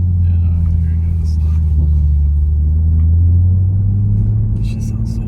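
Toyota Supra sports car engine running loud and close, a steady deep rumble that holds through the whole stretch, with people talking over it.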